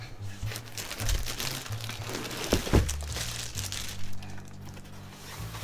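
Plastic packaging around an inflatable HeyTrip air mattress is opened with close crinkling and rustling for several seconds, including a sharper tearing crunch in the middle.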